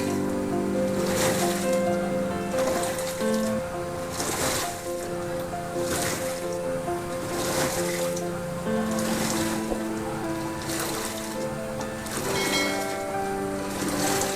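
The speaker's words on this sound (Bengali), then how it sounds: "আপনারা নিশ্চয়ই ওয়াশিংয়ের আওয়াজ শুনতে পাচ্ছেন।" A washing machine churns through its cycle, water sloshing in regular surges about every second over a constant motor hum.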